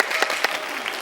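A Kyrgyz studio audience claps together on a TV variety show: a short, dense, steady burst of applause with a few sharper peaks, heard close and without any talk.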